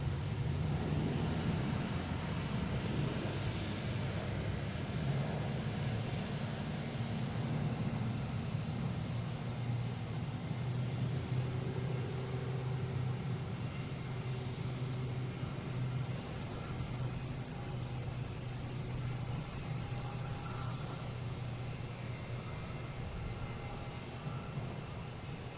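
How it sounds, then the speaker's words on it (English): A Southwest Boeing 737-800 taking off at Boston Logan, bound for Baltimore Washington, producing a long, steady, low engine rumble at a moderate distance that fades slightly toward the end, with no talking. "we get Southwest taking off, heading to Baltimore Washington International. 737-800, flight"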